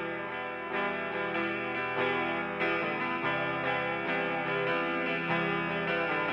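Opening of a song, a distorted electric guitar playing sustained, effect-laden chords in a steady rhythm with fresh strums every second or so, loud and with no voices.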